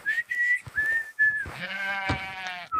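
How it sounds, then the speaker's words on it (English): At a farm sheep enclosure, a few clear tonal whistles come first, then a sheep lets out one long, wavering bleat nearby. "He opens the gate and lets the sheep out to graze."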